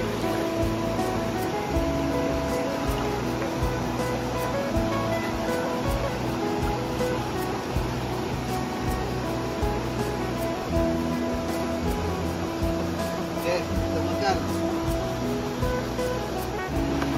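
Strong river current rushing along the upper Rajang, a steady, dense roar of flowing water that holds constant and close throughout with no voices.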